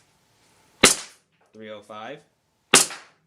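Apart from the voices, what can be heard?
AW Custom HX23 Hi-Capa airsoft pistol firing 0.2 gram BBs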